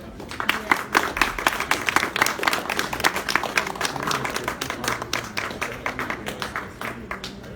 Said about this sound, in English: Please give applause for Andreas Horvat.